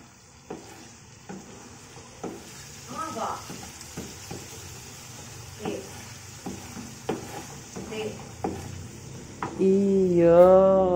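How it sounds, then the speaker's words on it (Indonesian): Blended spice paste frying in hot oil gives a steady low sizzle, broken by repeated scraping knocks of a utensil stirring the pan; a brief voice comes in near the end. "Kemudian kita tumis sampai garing"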